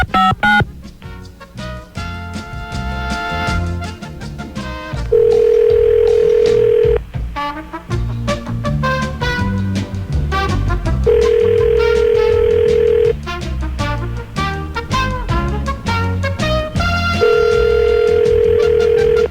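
A telephone line plays dialing tones and a steady tone, with a long held tone returning at regular intervals amid busy, layered electronic beeps and ringing sounds.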